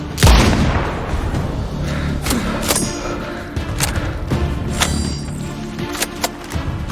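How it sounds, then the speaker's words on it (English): Heavy thuds and booming blasts of incoming mortar fire in the video game Sniper Ghost Warrior Contracts, a loud impact at the start followed by scattered sharper cracks over a steady rumbling backdrop. "Tango under mortar fire."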